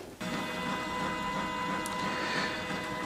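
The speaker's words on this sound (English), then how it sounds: "Printer's doing its thing right now, doing a head cleaning and stuff like that. Flushing some ink through" A Prestige A3+R DTF printer runs a printhead cleaning cycle, flushing ink with a steady whirring mechanical drone and a faint high whine. The sound is continuous, close and fairly loud, with no talk.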